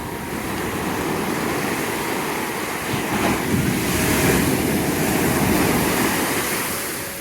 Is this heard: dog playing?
no